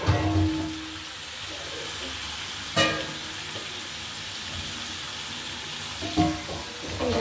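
Green chilies frying in a pan with meat paste give a steady close sizzle, broken by a few louder clatters of stirring.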